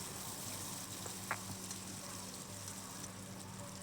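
Dried peas frying with salt and a whole bay leaf, a faint, steady sizzle and hiss with one brief clink, no talk.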